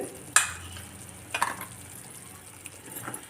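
Bombay halwa with cashews and ghee stirred in a pan, giving soft scraping and stirring strokes with a faint sizzle, two sharper clatters standing out from the low cooking hiss.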